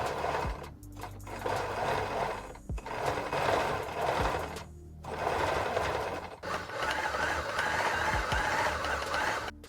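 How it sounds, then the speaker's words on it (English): A sewing machine stitches a cloned T-shirt body together in steady fast whirring runs, stopping briefly between seams, loud and close with no talk. "First, I'm gonna start by sewing the body together, and then I'm gonna sew the sleeves to the body."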